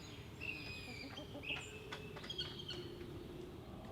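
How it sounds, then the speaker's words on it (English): A friendly bird calls outdoors on a morning, giving a few thin, high chirps and whistles over steady low background rumble. "He's one of the friendliest birds that I've ever encountered."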